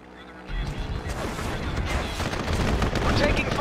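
Dense gunfire crackles in the Mental Omega strategy game, a rapid fusillade of overlapping shots and bursts that starts abruptly and stays loud and continuous for several seconds.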